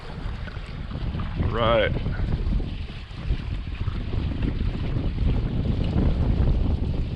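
A Slidercat sailboat runs under both jib and mainsail in a 12 to 14 mph breeze, with steady water rush and wash from the hulls, buffeting wind noise on the microphone throughout, and a brief spoken word partway through.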